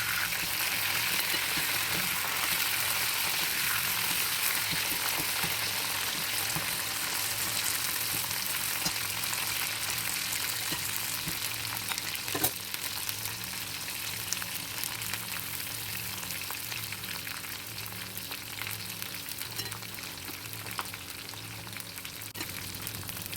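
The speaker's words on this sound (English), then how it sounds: "fry the bitter gourd rounds or slices on medium heat until they turn golden and crisp" Bitter gourd rounds frying in several tablespoons of oil over medium heat, giving a continuous, even sizzle and crackle throughout with no talking.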